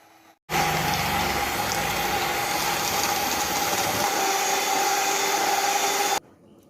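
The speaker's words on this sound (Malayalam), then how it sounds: "ഞാൻ ഇപ്പോൾ ഇവിടെ ബീറ്റർ വെച്ചിട്ടാണ് ബീറ്റ് ചെയ്യുന്നത്." An electric hand beater whips instant coffee powder into a fluffy froth for homemade cappuccino, starting abruptly and running as a loud steady motor whir for about six seconds before stopping.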